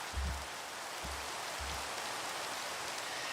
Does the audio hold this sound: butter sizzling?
no